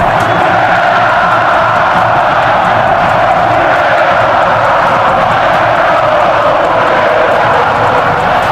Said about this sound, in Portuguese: uma música da torcida do Flamengo que ecoou pela primeira vez no Maracanã